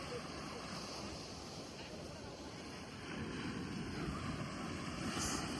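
Ocean surf rolls in at RK Beach in Vizag with a continuous broad wash of waves and some wind buffeting the microphone. The surge swells a little louder toward the end.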